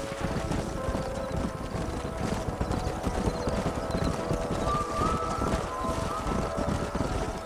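Horses gallop in Red Dead Redemption, a steady drumming of hooves with wind rushing over a constant, fairly loud outdoor backdrop.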